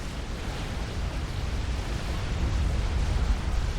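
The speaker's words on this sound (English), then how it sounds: "That's artillery" Artillery shells exploding in a Supreme Commander real-time strategy match, heard as a steady, dense rumble of overlapping blasts with no clear gaps, loud and continuous throughout.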